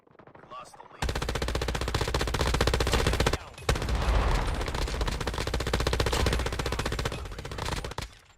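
MG82 light machine gun in COD Mobile firing long, sustained bursts of rapid automatic fire, loud and dense, with a short break midway and no talk.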